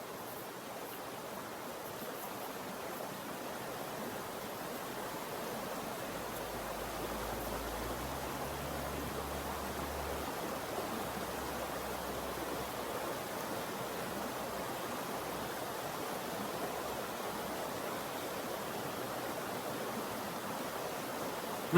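A creek flowing steadily in the outdoors, a soft continuous wash of running water with a low rumble beneath, even and unbroken throughout.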